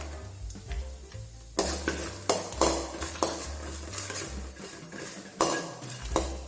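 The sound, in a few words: peanuts and cashews frying in a pan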